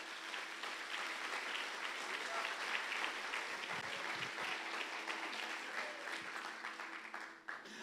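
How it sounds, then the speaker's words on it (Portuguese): A church congregation applauds in a steady, sustained wash of clapping that fills the room from start to finish, with a few low thumps heard underneath. "Você pode aplaudir Ele,"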